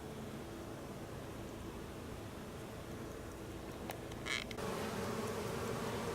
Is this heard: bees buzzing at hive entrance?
yes